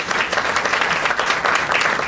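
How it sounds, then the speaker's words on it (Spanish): Sustained, dense applause from an audience at a consultation event, a close, even wash of clapping bidding farewell to the members of a panel, with no pause throughout. "Un aplauso de despedida para los integrantes de la mesa."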